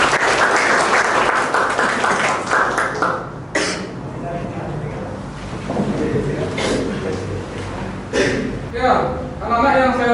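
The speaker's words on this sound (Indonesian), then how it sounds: "Kasih aplaus buat ketua kelasnya." A classroom of students claps for their class leader at a school, a dense, steady patter of applause lasting several seconds with voices and a cough mixed in.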